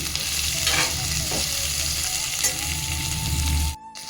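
Green chillies fry in a pan with a close, steady hiss and crackle while a utensil scrapes and stirs through them, the sizzle cutting off abruptly just before the end.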